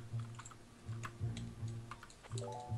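Keys clatter on a computer keyboard during play of the game Vagante, in quick uneven bursts of close, light clicks over a low steady hum.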